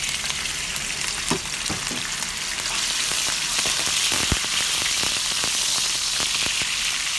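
Pork frying in a wok gives off a loud, steady sizzle with brief crackles and stirring scrapes, heard alone without speech.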